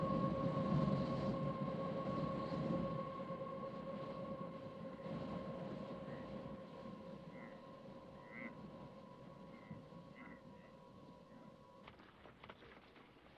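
A train rolls along a desert railway in the 1962 film Lawrence of Arabia, a steady rumbling drone with sustained tonal hum that stays fairly loud and constant, without talk over it.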